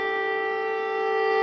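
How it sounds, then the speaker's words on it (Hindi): An air raid siren in Kyiv, Ukraine, wails with a steady, sustained, harmonic-rich tone, loud and unbroken throughout. "सायरन की आवाज आप सुन सकते हैं।"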